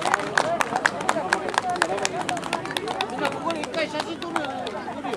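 An audience at a Japanese snow festival in a karamushi-weaving village applauds the winners of a contest. Brisk, scattered hand claps mix with crowd murmur and voices, strongest at the start and thinning slightly toward the end.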